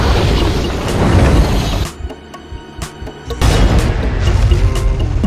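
A plane blown up by a smashed oxygen tank on an ancient shipwreck dive site: a loud, sustained booming blast that drops off briefly, then surges back as a second heavy rumbling roar.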